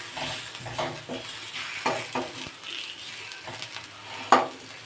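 Garlic and onion fry in oil in a pan, a soft continuous sizzle broken by light scraping and stirring clicks, with one sharper clink near the end.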